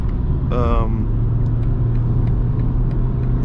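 2021 BMW 4 Series Coupe on winter tires accelerating on a road, a steady low engine and tire rumble heard from inside, with a brief tonal chirp early and someone talking over it.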